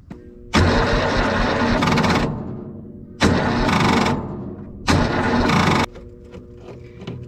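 A John Deere Gator engine cranks in three loud, sustained bursts of roughly two seconds each, separated by short pauses, with no sign of it catching and running.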